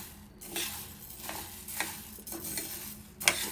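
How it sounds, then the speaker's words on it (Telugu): Urad dal slowly dry-fried in a pan and stirred patiently: soft, repeated scraping strokes about every half second over a faint, low sizzle, close by with no talking. "ఓపికతో స్లోగా తిప్పుతూ ఫ్రై చేసుకోవాలి"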